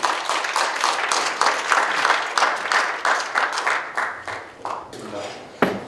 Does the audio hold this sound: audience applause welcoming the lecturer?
yes